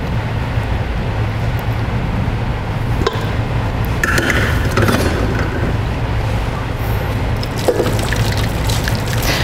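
Hot water is poured into a pan around a flourless chocolate cake for a water bath, giving a soft, continuous trickle and splash with occasional clinks, steady at moderate level.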